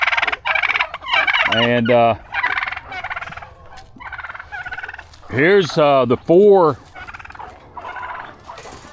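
Turkey toms on a farm gobble in several loud, close bursts with warbling rising calls, heard alongside other fowl noises; someone speaks briefly during the clip.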